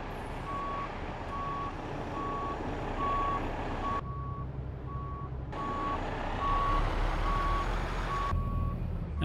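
In American Truck Simulator, a truck's reversing alarm sounds a steady series of evenly spaced beeps over a loud rumbling engine, briefly cut off twice.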